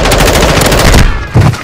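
Rapid automatic gunfire in a first-person shooter, loud and close, a dense burst of shots for about a second followed by a brief pause and another short burst.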